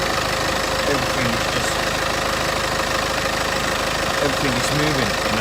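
A car engine idles steadily while warming up, shaking on its front mounts, with a continuous close rumble as someone talks over it.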